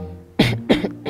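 A man coughs in a short double burst, two harsh close coughs with a smaller trailing rasp, after a brief moment of quiet background.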